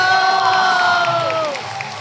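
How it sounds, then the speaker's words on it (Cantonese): Crowd cheering and shouting at a school graduation ceremony and variety show, loud and sustained with children's voices, easing slightly toward the end. "俾啲掌聲！"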